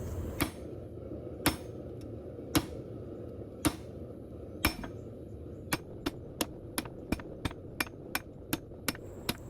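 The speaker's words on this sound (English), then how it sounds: "Sometimes to speed up the process, I like to use this 10-pound sledgehammer." A 10-pound sledgehammer strikes hot steel while forging a bowie knife, sharp ringing blows at first spaced about a second apart, then quickening into a faster, lighter, evenly timed series, close and clear over low shop hum.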